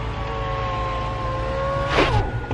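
The retractable hardtop roof of a Ferrari 488 Pista Spider closes with a steady electric motor whir and faint mechanical hum, ending in a short clunk as it latches.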